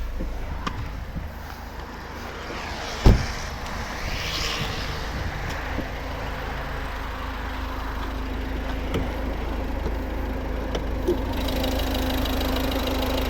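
A 2011 Volvo V50 1.6 D2 diesel engine idles steadily with a low, even rumble and faint knocking, close up, with a single sharp clunk near the start.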